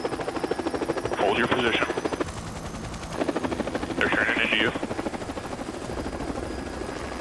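Alaskan rescue helicopter droning loudly and steadily at close range while refueling in flight from a C-130 tanker, the rotor beat constant throughout, with radio voices talking over it.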